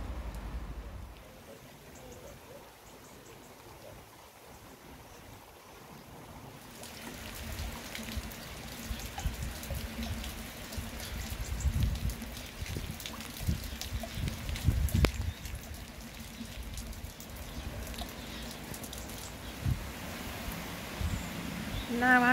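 Steady autumn rain falling across a garden makes a continuous soft hiss and patter, quieter at first and then a little fuller and closer after several seconds.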